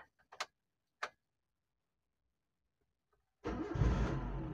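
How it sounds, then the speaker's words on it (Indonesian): A 2006 Suzuki APV with manual transmission has its engine started: a couple of faint clicks, then the engine catches and settles into a loud, steady idle up close for the last second. "kita coba nyalakan mesinnya ya"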